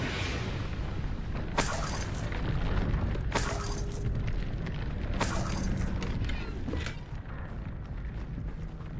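Bombarda blast spells from Hogwarts Legacy: a few sharp cracking bursts with a shattering edge, spaced a couple of seconds apart over a steady rumbling game backdrop.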